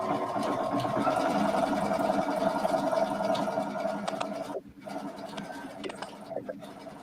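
A sewing machine stitches apron fabric with a fast, steady whirring buzz, close and fairly quiet, pausing briefly twice near the end.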